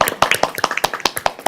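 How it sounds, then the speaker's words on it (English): A small group at a city council work session claps in a brief, close burst of sharp, distinct hand claps in a quick uneven patter lasting under two seconds. "Want to hear quick applause? Let's do it."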